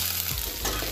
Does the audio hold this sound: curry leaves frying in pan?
yes